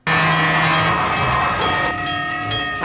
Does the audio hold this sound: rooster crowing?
no